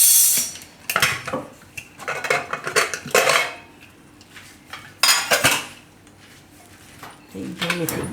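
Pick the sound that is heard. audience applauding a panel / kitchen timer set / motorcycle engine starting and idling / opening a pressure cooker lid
opening a pressure cooker lid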